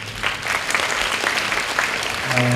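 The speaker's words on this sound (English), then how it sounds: "Big round of applause for Mr. Nikhil." Audience at a sustainable development talk in Malaysia applauding a speaker, steady mid-distance clapping throughout, fairly soft, with a brief tonal hum near the end.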